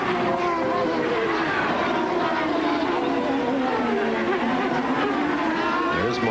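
Penske Mercedes IndyCar on Goodyear tires racing at the 1997 Sunbelt IndyCarnival, a continuous loud engine drone with shifting pitch as cars circle the track, a commentator talking over it throughout.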